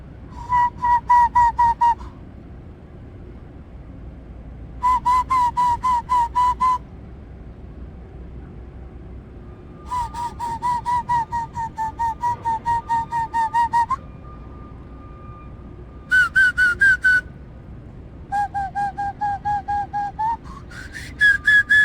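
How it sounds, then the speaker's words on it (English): A loud fingerless whistle, made with the lips alone and no fingers, sounds in a series of sharp high bursts with short pauses between them. Some blasts hold one pitch and others slide upward, all close and unaccompanied by speech. "the whistle is more right over the top of the lip at the high end"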